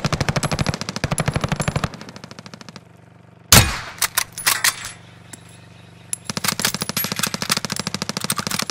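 Rapid automatic gunfire in Call of Duty: Modern Warfare comes in sustained bursts, a pause with a few sharp shots and metallic clinks, then another long rattling burst, close and loud.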